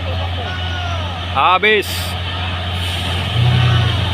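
An Isuzu truck stalls on the steep Bukit Kodok hill climb, its engine droning in a steady low hum, with a brief spoken word and a short hiss of air in the middle.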